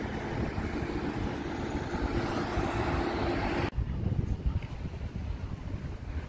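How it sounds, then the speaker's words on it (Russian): Steady sea wind buffets the microphone on a seaside embankment walk, a loud continuous low rumble that cuts off briefly near the four-second mark, then returns gusting. "чуть-чуть ветер все равно дает о себе знать"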